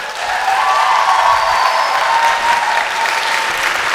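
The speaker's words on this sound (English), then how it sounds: "So let's give her a warm round of applause." A comic con panel audience in Austria applauds warmly, sustained loud clapping from a sizeable crowd that continues evenly for the full four seconds, with no voices over it.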